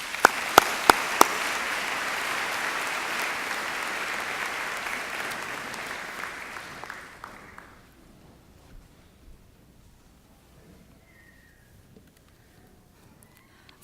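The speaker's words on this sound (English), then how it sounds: "Let's give her a round of applause." Applause from a high school commencement audience for a graduating student speaker, a dense steady wash of clapping with a few sharp claps up front, lasting about seven seconds before fading into near silence.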